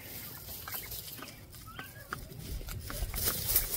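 Soft clucking from a few small chicks, scattered calls over a busy outdoor background, nothing loud or close.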